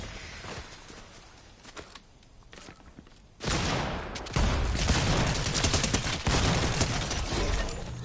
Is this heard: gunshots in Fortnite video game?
yes